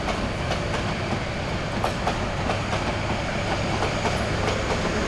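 Subarna Express passenger train with a very long rake of old coaches running steadily, a loud continuous rumble with rhythmic wheel clatter and faint squeals throughout.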